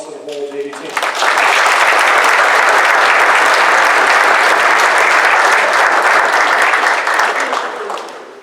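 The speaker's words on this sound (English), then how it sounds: "let's give a round of applause to the whole JV team." At a 2022 lacrosse awards banquet, a brief spoken line gives way to loud, sustained applause from the audience for the JV team, a dense wash of clapping that holds steady before tapering off at the end.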